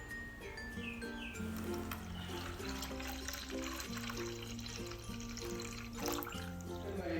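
Milk, 500 ml, poured into a pan of ground carrot for a carrot pudding, a steady close liquid trickle and gurgle running throughout, with faint bird chirps in the background.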